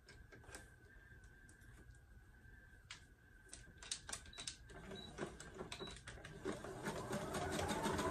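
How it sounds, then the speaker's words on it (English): A sewing machine stitches the seam of a crop top, a rapid mechanical rattle that starts quietly with a few stops and clicks, then runs steadily and grows louder toward the end, with no talking. "Now I'm going to sew down the other side."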